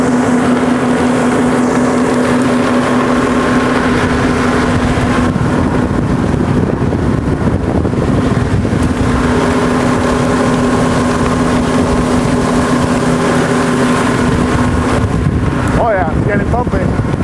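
An Axopar motorboat runs over open water with a loud, steady engine drone, rushing hull and water noise and heavy wind buffeting on the microphone throughout.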